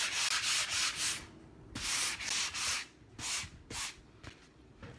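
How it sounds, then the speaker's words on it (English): Light hand sanding strokes on a painted wooden board rasp back and forth in short bursts, close up, with brief pauses between passes and no talking. "I'm going to go ahead and do just a light sanding on my second coat here"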